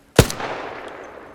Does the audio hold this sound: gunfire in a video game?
yes